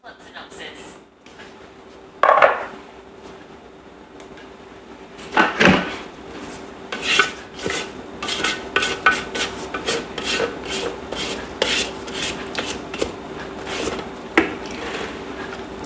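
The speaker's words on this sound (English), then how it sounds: "we're going to keep scraping it down just to keep all the chunky bits down the bottom" Spatula scraping down the sides of a Thermomix bowl while making butter chicken, a series of close, rapid rubbing and scraping strokes with an occasional louder knock, over a faint steady hum.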